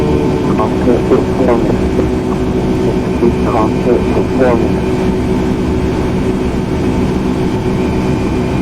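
Airliner engines throttling up in Microsoft Flight Simulator X, a loud, steady low roar and hum, with a voice speaking over it early on.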